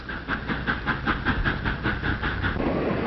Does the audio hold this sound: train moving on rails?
yes